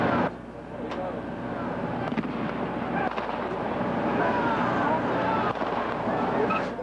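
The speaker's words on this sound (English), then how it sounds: "Those were gunshots you heard." Gunshots ring out at 1 a.m. during a police SWAT operation on a barricaded gunman in Abington, Pennsylvania: a few scattered sharp cracks over a dense, noisy night background with indistinct voices.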